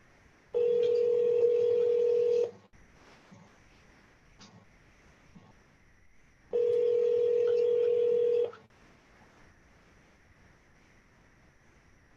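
A telephone calling back a number, ringing out with two steady two-second tones separated by a long quiet gap, loud and clear over faint background noise.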